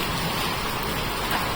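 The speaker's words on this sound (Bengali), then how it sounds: "ঢাকায় বৃষ্টি, বৃষ্টির সাথে সাথে বরফ পড়তেছে।" Rain mixed with hailstones falling in Dhaka, a dense, continuous loud patter and hiss of drops hitting surfaces, steady throughout with no voices.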